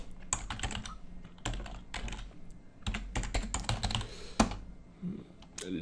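Quick bursts of typing on a computer keyboard as a Symfony console command is entered, close and clear clicking in irregular runs separated by short pauses, with no talking.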